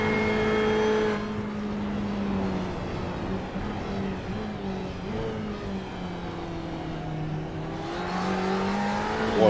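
A Porsche race car engine in a sim racing game at Daytona, a steady loud droning roar with shifting pitch that holds throughout, rising and falling as the car accelerates, with no talk.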